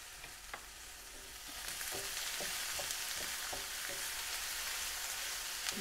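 A quiet but steady sizzle of mushrooms and onions browning in a pan, with soft, repeated scrapes of a utensil stirring them through the hiss.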